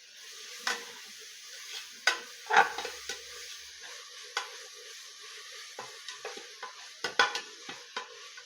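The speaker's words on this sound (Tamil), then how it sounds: "நல்லா கிளறி விடுங்க" Ginger-garlic paste stirred in a hot frying pan, its steady sizzle punctuated by irregular scrapes and clinks of the spoon against the metal, close and moderately loud with no talking.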